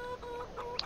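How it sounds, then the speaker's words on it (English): Chickens cluck in a farming video game, soft steady clucks over a continuous background tone with a brief brighter chirp near the end. "let's whiz over here, see how the chickens are doing"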